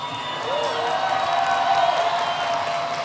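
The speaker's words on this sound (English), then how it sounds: "A big cheer for our graduates" A large crowd at a 2023 university commencement ceremony cheering and applauding for standing School of Public Health graduates, a steady wash of claps and whoops with a faint tone over it.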